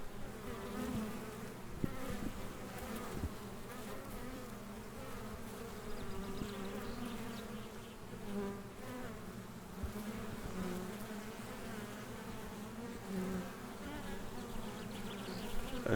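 Honey bees swarm around a beekeeper's hives in burned Greek forest land, a steady dense buzzing hum that fills the whole stretch, close and continuous with no voices.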